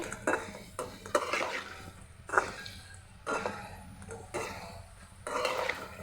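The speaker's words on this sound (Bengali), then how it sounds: "আলুর ফ্রেঞ্চ ফ্রাইটা আমি আবার নেড়ে দিচ্ছি" Potato french fries being stirred in a frying pan: a series of close, irregular scraping clatters of a utensil against the pan, several sharp knocks spaced over a few seconds with faint frying beneath.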